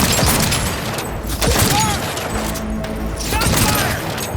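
Gunfire in the Cyberpunk 2077 video game: a dense, loud barrage of shots and booms over a constant roar of battle, with voices and game effects mixed in.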